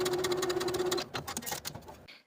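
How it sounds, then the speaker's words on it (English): A sewing machine bastes a tie onto wrap-skirt fabric with a fast, close, rhythmic stitching chatter that slows and stops after about two seconds. "Then I'll go back to the sewing machine and baste the tie in place."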